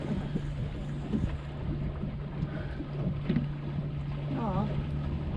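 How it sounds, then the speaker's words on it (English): Strong wind buffeting a microphone on a fishing boat out on choppy water, a steady rough rumble with a low engine hum beneath and people talking over it. "That wind is crazy."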